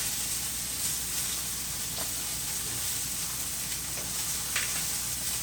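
A steak for a chimichurri sandwich sizzles in a hot pan with a steady, even hiss, a few soft crackles and pops, and no voices.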